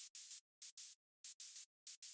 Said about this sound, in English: I've just got this operator here playing white noise, and it pretty much just acts as a hi-hat.